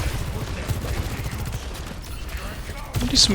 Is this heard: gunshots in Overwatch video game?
yes